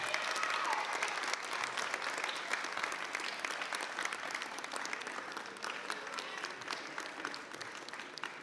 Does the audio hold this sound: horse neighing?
no